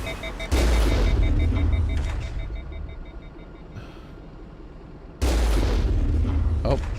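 Heavy cannon shots in Mass Effect 1 boom out twice, loud and close. Each blast is followed by a long rumbling decay, with a quieter stretch between them.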